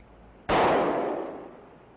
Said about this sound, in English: By shooting this jacketed hollow point bullet into a block of ballistic gelatin, we can show how the bullet expands.